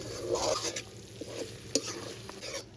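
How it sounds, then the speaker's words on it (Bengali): Pointed gourd stirred into a sizzling spice masala in a pan for a vegetarian curd dish, with steady soft frying, scraping strokes and a sharp clink of the spoon against the pan. "এখন এই মশলা কষানোর ভেতর পটলটা দিয়ে দেব পটলটা দিয়ে ভালো করে মশলার সঙ্গে একটু কষাবো"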